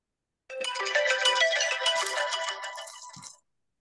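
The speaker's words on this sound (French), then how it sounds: "Il y a eu comme une sonnerie intempestive." Phone ringtone going off during a talk, a bright melodic electronic tune that plays loudly for about three seconds and then cuts off, with no voices over it.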